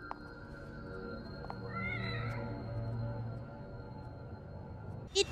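Cat meowing in The Evil Within, a drawn-out wavering mew over a low hum, followed by a brief sharp noise at the end.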